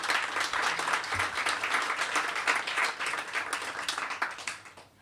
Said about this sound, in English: Let's give Prof. Castillo another round of applause.